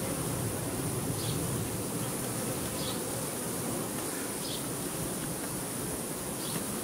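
Honeybees from a colony with a poor queen buzz inside an open hive. The buzz is a dense, continuous drone heard up close and steady throughout, with no voices.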